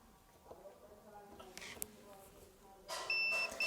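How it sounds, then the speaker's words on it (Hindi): A multimeter on continuity test touching pin 3 of an IC on an LED TV board gives a steady electronic beep near the end, following scattered clicks and brief noises, with someone talking throughout. "ये देखिए दोस्तों बीप साउंड आपको सुनाई दे रहा है।"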